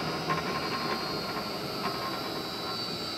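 A Canady-Otto drill press on a Huanyang three-phase VFD conversion runs steadily with a smooth, constant mechanical hum and a faint high whine, alone and without talk.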